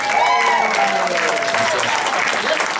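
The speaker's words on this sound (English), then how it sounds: "give him a big round of applause." Loud, dense applause from an indoor audience at a live stage show, steady clapping with crowd noise and a voice talking over it throughout.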